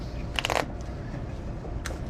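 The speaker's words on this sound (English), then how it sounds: "You could shuffle them face up so everybody could see them." A deck of playing cards is riffled in a short, crisp burst during a close-up magic performance at a corporate headquarters, followed by a brief second flick; no talk.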